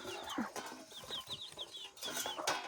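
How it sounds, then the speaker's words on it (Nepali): Chickens clucking and chattering in short bursts close by, with a few sharper calls among them and a steady outdoor murmur underneath. "अब चाहिँ म कुखुरा चारो दिन्छु"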